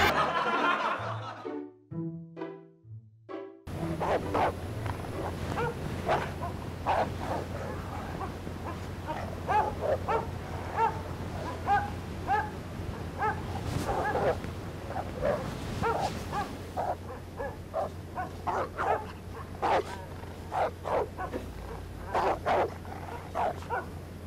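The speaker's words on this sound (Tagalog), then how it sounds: "Nagtatahulan yung mga aso sa kapitbahay." Neighbours' dogs barking at night, a scattered run of distant-to-moderate barks over a steady background hum, with a brief voice near the start.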